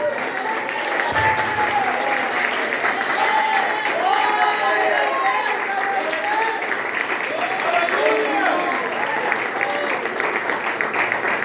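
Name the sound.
church congregation applause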